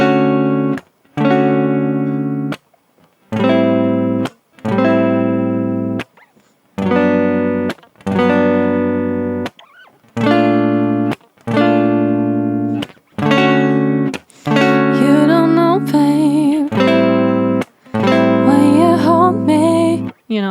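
An acoustic guitar is strummed through a progression of 7th chords, each chord rung out in a short burst and followed by a brief gap, in a steady repeating rhythm, close and clear, with no talking.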